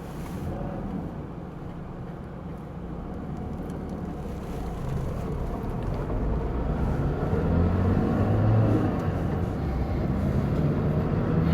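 A Proton Satria with manual transmission driving, its engine and road noise forming a steady low rumble heard from inside the car, building gradually as it accelerates, with no talking.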